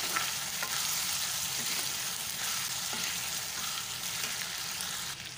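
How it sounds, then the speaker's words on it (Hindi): Cumin seeds frying for Afghani beef karahi, a dense continuous sizzle at an even level throughout with a few faint stirring taps, nobody talking. "व्यूअर्स अब जीरा को भून लेंगे"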